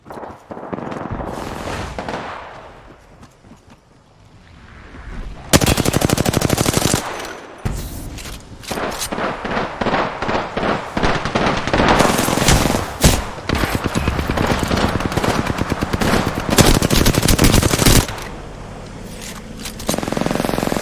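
Rapid automatic gunfire from a shooter video game during a live stream, loud dense bursts of shots stretching across most of the stretch, with brief lulls and a quieter tail at the end.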